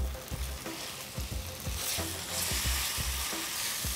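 Stir-frying in a pan after green peppercorns go in, a constant close sizzle with rhythmic scrapes and clacks of the utensil against the pan repeating every half second or so, no talking.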